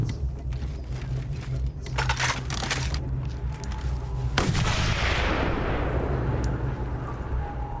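Gunshots and metallic clatter from Mad Max game combat at a camp, sharp cracks and impacts in quick succession followed by a long rumbling, decaying blast over steady background noise.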